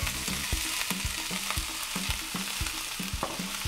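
Shallots and tomatoes sizzle loudly in a pan, a dense continuous frying hiss punctuated by regular rhythmic stirring scrapes and knocks, close up with no speech.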